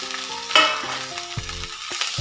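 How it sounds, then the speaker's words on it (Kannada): Chopped capsicum stirred into a hot frying pan for a capsicum gravy: steady oily sizzling broken by a few scraping stirs of a spatula, close up, with no voices. "ಇದನ್ನು ಇದ್ರಲ್ಲಿ ಸೇರಿಸ್ಕೊಂಡು ಒಳ್ಳೆಯದೊಂದು ಮಿಕ್ಸ್ ಕೊಡೋಣ"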